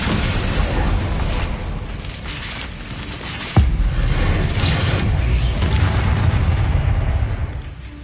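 A Descendo spell slams down in the Hogwarts Legacy video game with a single sharp, heavy boom that rises briefly above loud, continuous game action and rumble.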